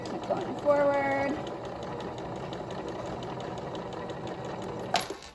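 A sewing machine runs forward at steady speed, stitching gathers in a fast, even mechanical rhythm at close range, and the whir stops near the end with a small clunk.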